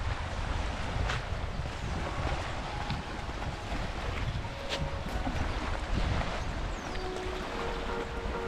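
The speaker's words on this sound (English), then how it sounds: "It's blowing a gale" Strong gale-force wind blowing across an open lake, a loud, continuous roaring rush that buffets the microphone throughout, with no speech.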